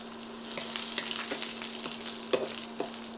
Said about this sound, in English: Once oil becomes hot, put frozen potato inside and